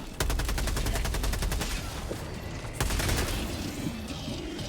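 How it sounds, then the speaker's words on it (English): In a Helldivers 2 battle, enemy rockets fire amid loud, rapid bursts of gunfire, with two dense volleys of staccato shots and a constant rumble of combat underneath. "Ooh, rockets."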